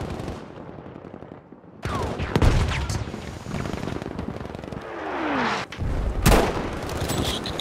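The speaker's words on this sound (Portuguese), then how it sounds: "É que eu chamo a artilharia. Acabei de chamar." An artillery strike called in during Battlefield V hits as heavy explosions and booms, mixed with scattered gunfire and whizzing projectiles across a busy battlefield.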